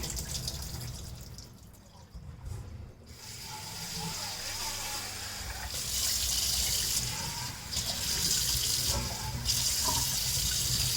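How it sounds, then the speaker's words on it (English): Water draining off soaked poha (flattened rice) into a sink, a steady running, splashing wash with brighter bursts of pouring toward the end, close and fairly loud throughout. "So I'm going to drain it out now."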